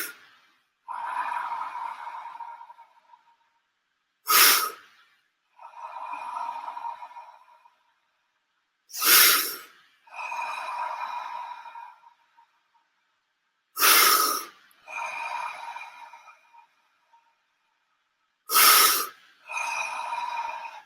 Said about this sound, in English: Breathing through your lungs, through your chest.